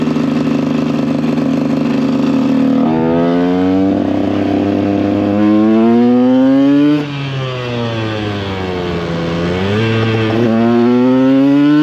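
A KTM EXC 125 two-stroke dirt bike revs loud and close while riding, its buzzing engine climbing in pitch through repeated gear pulls, dropping briefly at shifts and winding up again.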